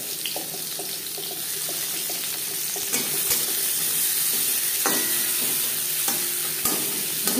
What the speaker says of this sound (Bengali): মাছ ভেজে নেওয়া কড়াইতে আবারও তেল দিয়েছি। দিয়ে দেব পেঁয়াজ কুচি।